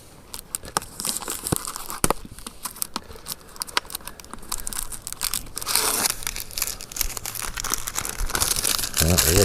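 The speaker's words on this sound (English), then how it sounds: "Peel the label off these things." Plastic labels peeled off 2-liter bottles at an off-grid cabin during tree tapping, heard as close crinkling, tearing and crackling with scattered sharp clicks, growing denser and louder toward the end, with no talking.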